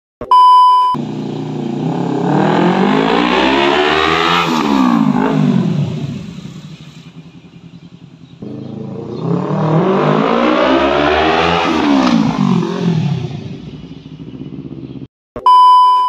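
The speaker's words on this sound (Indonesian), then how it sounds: "Gue akan coba untuk test ride ya, karena gue pengen nyobain suara knalpot dari CBR 250RR ini." A Honda CBR 250RR motorcycle on a test ride roars loudly through two long passes, each exhaust note climbing as it accelerates through the revs and then falling away, with short electronic beeps at the start and end.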